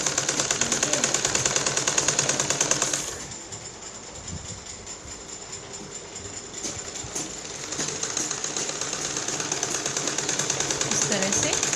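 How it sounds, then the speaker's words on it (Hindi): A sewing machine runs steady and close while stitching the lining of a single-piping blouse, whirring fast, then slowing with a lighter, sparser rhythm for a few seconds before picking back up to full speed. "कपड़े को थोड़ा ऊपर करके तब बिल्कुल सीधी सिलाई लगानी है।"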